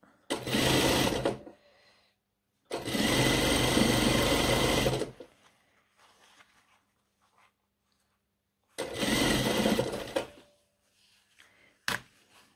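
A sewing machine stitches the side seam of a pair of trousers in three loud, close bursts of rapid whirring, separated by quiet pauses with faint handling noises and a short click near the end.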